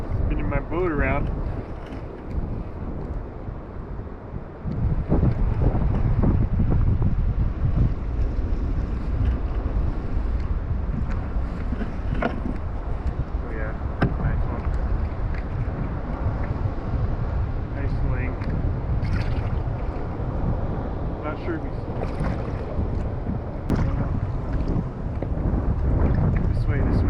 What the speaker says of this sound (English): Spinning my boat around.